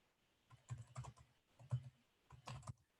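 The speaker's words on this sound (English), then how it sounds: "you just start typing in your line items, whatever you charge" Typing on a computer keyboard while entering invoice line items, quiet close-up key clicks in several short bursts separated by brief pauses.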